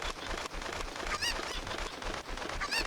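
A chicken in Zelda: Ocarina of Time, played as a modded randomizer, gives short squawking clucks over a dense, noisy game background, fairly loud with no talk.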